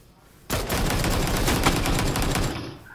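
Sustained burst of rapid automatic gunfire from shooting enemies in a video game, loud and dense for about two and a half seconds, ending abruptly.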